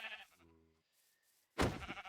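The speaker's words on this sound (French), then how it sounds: "on bute les moutons et on va directement dormir dans le lit d'un villageois" Sheep bleating in the video game Minecraft, two short clear bleats separated by a brief gap, the second sharper and louder, with no talking.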